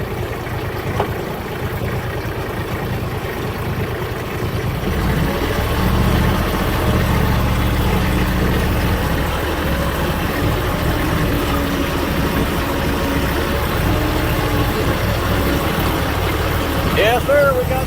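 A farm tractor engine drones steadily while dragging a log uphill with a log puller, a low, continuous rumble that swells slightly and holds loud throughout, with voices talking over it.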